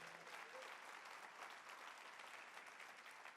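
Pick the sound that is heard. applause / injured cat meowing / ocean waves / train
applause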